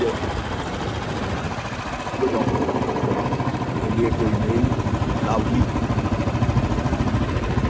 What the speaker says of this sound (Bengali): জঙ্গলের ভেতরে বাইক চালাচ্ছি